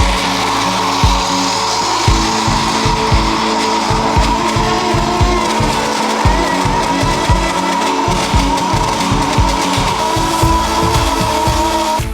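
A Blendtec Pro 800 blender runs on high speed, grinding peanuts into peanut butter with a loud, steady motor whine and a rapid, rough churning rhythm that continues without pause and with no voices.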